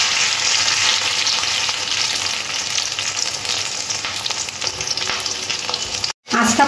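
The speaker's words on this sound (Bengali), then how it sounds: "রসুন কিমাটা দিয়ে দিলাম। তার সাথে সাথে 3খানা কাঁচা লঙ্কা কোচানো দিয়ে দিলাম।" Minced garlic and chopped green chillies fry in oil in a pan, a loud, dense, steady sizzle that runs throughout and cuts out abruptly near the end.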